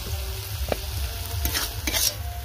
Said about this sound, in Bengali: আবার মশলাটা একটু কষিয়ে নিই